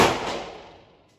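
A single sharp gunshot at a shooting range, one loud close crack that decays away over about a second, with no talk.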